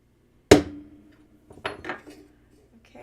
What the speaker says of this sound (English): let's go ahead and center punch a couple spots here